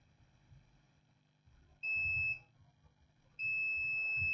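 Two sharp, high-pitched electronic beeps from a multimeter continuity test on a MOSFET in an Asus X543N laptop motherboard, the first short and the second held longer, over a quiet background.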